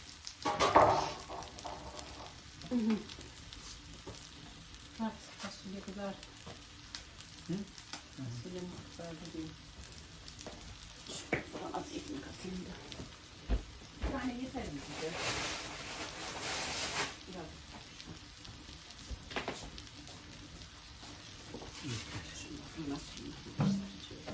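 Food frying in a pan outdoors in a garden, a steady sizzle with occasional clatter and stirring, while people talk over it.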